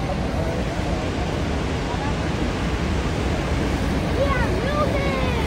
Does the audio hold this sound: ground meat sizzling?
no